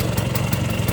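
Engine of a 1996 Vespa Exclusive scooter idling, a loud, close, steady putter with rapid even pulses and no voices.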